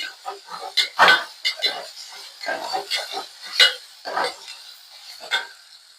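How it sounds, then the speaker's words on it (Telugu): Ginger garlic paste frying in a pan while being stirred with a utensil, making close, irregular scraping and clinking strokes with a soft sizzle underneath. "ఇప్పుడు ఇందులో అల్లం వెల్లుల్లి పేస్ట్ వేసుకుందాం వచ్చి వాసన పోయేంత వరకు కలుపుకోవాలండి"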